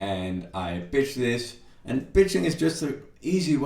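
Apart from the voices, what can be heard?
None of the usual background noises is heard.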